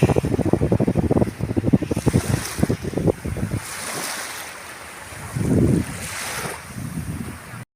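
Sea surf breaking on an Italian beach on an evening with people strolling and swimming, wind buffeting the microphone, with a few louder wave washes rising and falling.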